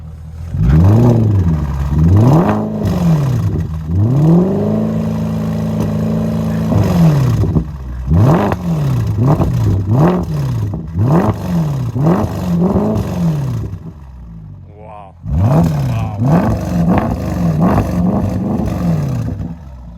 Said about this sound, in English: Okay, go on, let's give it some revs.